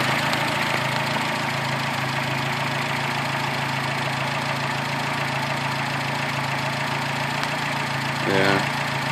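The 22RET engine of a 1986 Toyota SR5 TRD pickup idles steadily and close by, a dense continuous rumble with a faint mechanical tick and a brief bump in level near the end.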